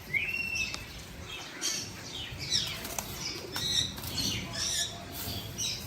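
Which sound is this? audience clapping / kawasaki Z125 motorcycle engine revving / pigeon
pigeon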